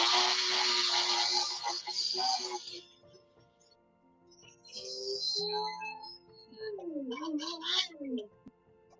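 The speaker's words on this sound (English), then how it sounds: "That's just a high-speed blender." A high-speed blender churns water and plant fibers into a pulp. Its loud, hissing whir fills the opening seconds, then drops away, and a later burst rises and wavers in pitch while people talk.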